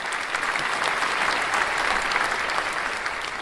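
A crowd claps in a dense, even round of applause that holds steady from start to finish, with no voices standing out.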